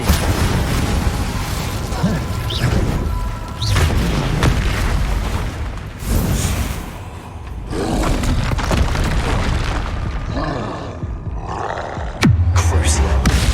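Incendio fire spells crackle and whoosh in Hogwarts Legacy combat, a series of loud roaring bursts and booms with short gaps between them and a heavy impact near the end.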